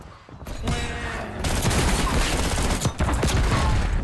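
Sniper gunfire in a video game: a dense, loud barrage of sharp shots and cracks continues steadily after a brief quieter start, with one short dip near the end.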